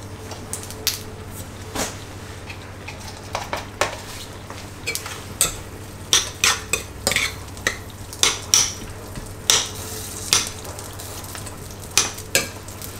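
A good knob of unpasteurised butter melts and sizzles in the bottom of a pan while vegetables are cooked, a soft continuous fry under frequent clinks and taps of utensils against the pan.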